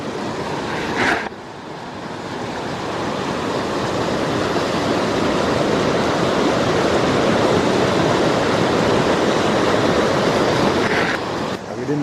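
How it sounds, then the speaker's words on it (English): Loud, steady rushing of floodwater roars across a trail near Rocky Mountain National Park, Colorado, without pause, close by, with a gusty, windy texture and a brief bump near the start. "You can see the water just running across the trail."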